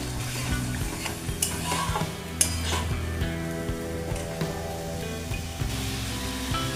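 Spiced curry masala for paneer ledikeni curry simmering in a pan after water is added, a steady sizzling bubble with occasional utensil clinks, sitting beneath continuous background music.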